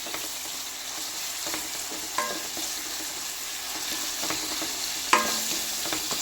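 Sliced onions fry and sizzle steadily in a pan with green chilli, garlic and ginger for a beef roast, with a constant hiss and occasional close scrapes of a stirring spoon.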